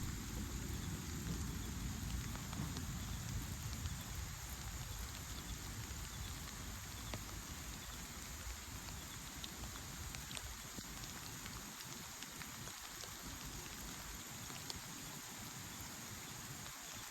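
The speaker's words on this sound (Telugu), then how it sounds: "నెక్స్ట్ క్లిప్లో నేచర్ ఒక సౌండ్స్ని, రెయిన్ ఫాల్ సౌండ్స్ని వినండి" Steady rainfall along the Nanemachi waterfall trek in monsoon-season Maharashtra, a continuous soft hiss and patter of drops on foliage and ground, evenly sustained and fairly quiet throughout with no talk.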